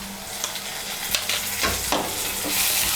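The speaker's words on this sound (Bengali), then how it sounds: "আদা বাটা, রসুন বাটা আর কাঁচা লঙ্কা বাটাটাকে তেলের সঙ্গে মিশিয়ে নিয়ে একটু ভেজে নিয়েছি।" Ginger, garlic and green chili paste fries in hot oil for an egg curry, a steady bright sizzle with scraping stirs and spoon knocks against the pan throughout.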